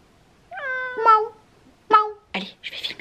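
A pet cat meows indoors at home: two clear, close meows, the first drawn out and the second shorter, followed by soft rustling and handling noises.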